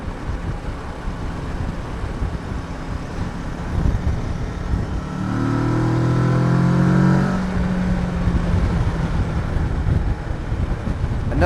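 A Kawasaki Versys 650 motorcycle with stock exhaust idles with a rough rumble, then revs up in a rising, mellow roar before settling back down, with wind noise throughout.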